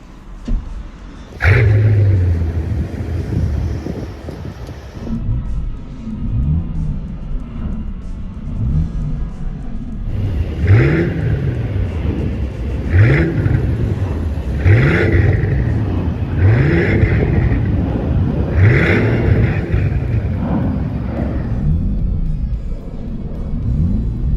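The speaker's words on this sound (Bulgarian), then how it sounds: "Сега ще запалим автомобила и ще го оставим да поработи, за да може да чуете в реално време неговия двигател" A Mercedes CL65 AMG C216 V12 engine cranks over and settles into a steady, throbbing idle with rhythmic surges and a deep rumble, running alone without talk.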